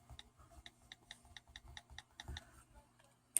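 Soft keyboard clicks from an iPhone 6s Plus touchscreen, a steady run of about a dozen light, evenly spaced ticks, close and quiet, with a low hum beneath.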